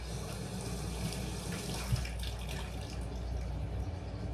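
Water runs steadily from a kitchen tap as food is rinsed before being sliced for a cucumber salad, a soft, continuous splashing with small clinks, heard at moderate distance.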